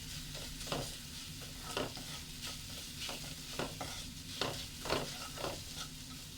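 Carrot being stir-fried with grated coconut in a pan, with repeated scraping stir strokes over a soft continuous sizzle, fairly quiet and close, with no voices.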